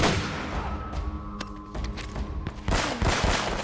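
Loud, steady bursts of gunfire during a firefight in Uncharted: Drake's Fortune, dense shots running throughout with a heavier volley toward the end.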